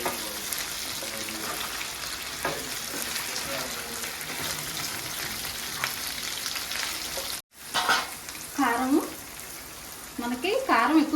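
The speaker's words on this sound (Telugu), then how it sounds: "కారం అంతా మొక్కకు పట్టేటట్టు తిప్పేసుకుందామండి" Chicken pieces coated in chili powder fry and get stirred in a pan, a close steady sizzle with scraping, broken by a brief silence, after which a voice talks over the cooking.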